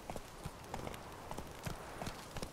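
Roach the horse trots in The Witcher 3: Hearts of Stone, a quiet, rhythmic clip-clop of hooves with no talking.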